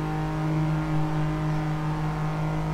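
Kei race cars at Sepang circuit hold a steady, moderately loud engine drone at high revs, heard at some distance, with no voices.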